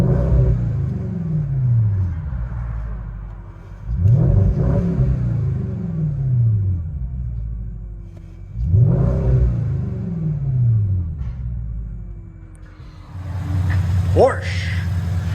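Porsche Cayenne S 4.8L V8 with a Vibrant resonator exhaust and quad tips, heard from inside the cabin as three rising revs that swell into a deep rumble and fall away, with someone talking over the engine.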